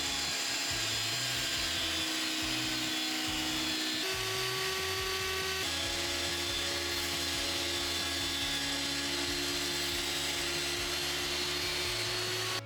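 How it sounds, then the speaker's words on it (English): A thickness planer feeds pieces of wood through its cutters, holding a loud, steady machine whine and roar. The pitch shifts slightly as each board passes, with a constant motor hum under it. "I can chuck them through the planer and bring them all down to the same thickness"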